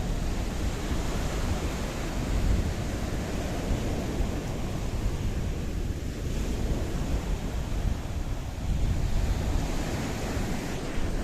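Steady winter surf washes onto Rikkos Beach in Paphos, Cyprus, a continuous broadband roar of breaking waves with some wind rumble, loud and unbroken throughout with no voices.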